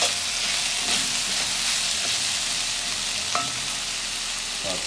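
A hot pot of Jamaican kidney beans and rice sizzles loudly and continuously as it is stirred, with a dense hiss of steam and frying plus a few faint scrapes of the spoon, close up.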